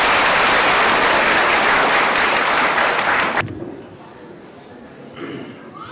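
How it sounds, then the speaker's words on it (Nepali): Loud applause from an audience at an annual anniversary celebration, sustained steady clapping that stops abruptly after about three and a half seconds, leaving quiet room noise. "सबैले ताली बजाएर स्वागत गर्नु"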